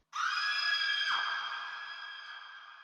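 A single long, high-pitched scream rings out loudly and holds for several seconds before slowly fading.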